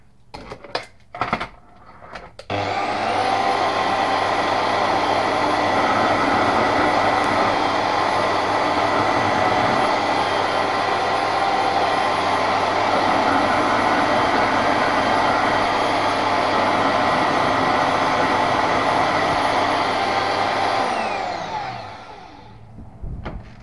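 A grinder shapes a desert ironwood handle for a bushcraft knife, roaring loud and steady for about twenty seconds after a few short starts, then winding down at the end.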